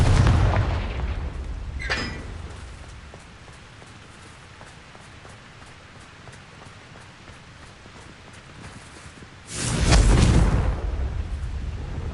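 A Confringo blasting spell explodes in Hogwarts Legacy on PS5, a loud burst at the start and another heavy rumbling blast near the end, with a crackling hiss in between.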